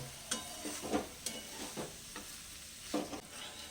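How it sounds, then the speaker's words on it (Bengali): Fried cauliflower florets being stir-fried into a spiced masala over lowered heat, a soft steady sizzle broken by several scraping strokes of a spatula against the pan, close and fairly quiet with no talking. "যে ফুলকপিগুলো ভেজে রেখেছিলাম এখন এর মধ্যে দিয়ে দিচ্ছি"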